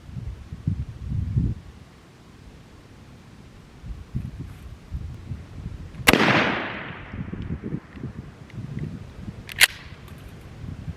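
A turkey shotgun fires a 6-shot turkey load at a pattern target 20 yards away, one sharp, loud blast with a decaying rumble amid quiet outdoor background noise.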